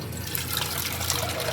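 Water pours into a pan on a stove for a short moment, a steady splashing gush with no voices over it.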